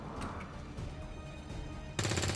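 Gunfire in the XCOM 2: War of the Chosen video game: a rough, noisy stretch, then a sudden loud burst of dense, rattling shots near the end.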